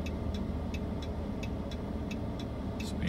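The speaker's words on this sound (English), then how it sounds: "Of course, these cars are going as slow as possible." Slow-moving cars roll past along a 50 km/h town street in St. Stephen, New Brunswick, a steady low traffic rumble with faint regular ticking, no voices.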